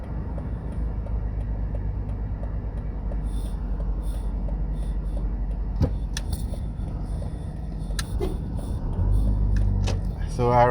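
Traffic on a highway under construction in St Thomas, Jamaica, produces a steady low engine rumble from nearby cars, with faint talk and a few clicks and thumps.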